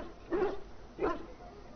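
Two short barks from a dog in the Dragon Age Origins role-playing game, about half a second apart, fairly close and moderately loud, with quiet game ambience between them.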